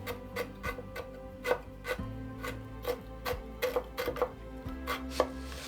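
A knife chops ginger into small cubes on a cutting board for wok fried rice with chicken and egg, a rapid, uneven run of close, crisp taps with a faint low hum behind.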